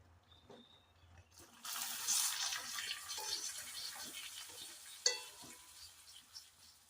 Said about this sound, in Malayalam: കുമ്പളങ്ങ നന്നായിട്ട് തിളച്ച് വന്നല്ലോ, കടുക് താളിച്ചിടാം